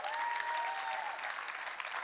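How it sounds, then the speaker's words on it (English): Short burst of audience applause at a talk about VR visual development, a steady wash of clapping with a faint tonal sound running beneath it. "give them an applause"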